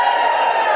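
A live comedy audience cheers and whoops continuously, a dense, loud crowd roar that holds steady without a break.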